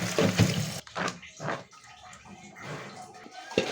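Local Bogura potatoes are washed in water in a home kitchen, with splashing and trickling strongest at the start, then softer intermittent sloshes and drips.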